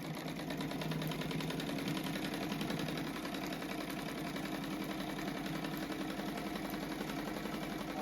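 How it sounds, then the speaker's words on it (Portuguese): Overlock serger sewing machine stitching fabric for a heart-shaped envelope cushion, a steady, fast mechanical whir and hum running continuously and evenly throughout, fairly faint and with no talking. "eu passei no overlock"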